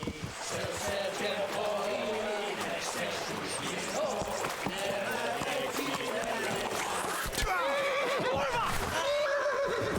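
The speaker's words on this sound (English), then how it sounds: "That's the horse!" A horse whinnies amid busy Kingdom Come: Deliverance (Band of Bastards DLC) game audio with music, hoofbeats and other effects, and someone talks briefly over the mix.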